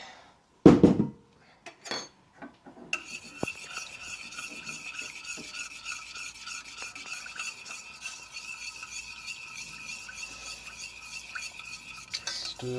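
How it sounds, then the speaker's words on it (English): Whiskey being stirred into a lemon butter sauce in a pan: after a loud clank and a few knocks, a continuous scraping, rasping stir of utensil against the pan runs on steadily to the end, with no talk. "Stir that through."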